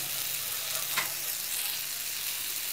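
Tomato and curry leaves sauté for poori masala, giving a constant fairly quiet sizzle with one brief stirring scrape partway through.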